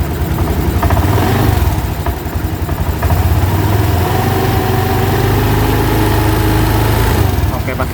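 A used scooter's engine with a CVT is revved lightly, the steady engine drone rising a little in pitch and level, close and loud, with a person talking nearby.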